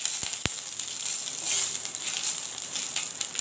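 A whole green chili, lightly split, and five-spice seeds frying in hot oil, a steady close sizzle with a couple of sharp pops at the start and fine crackling throughout.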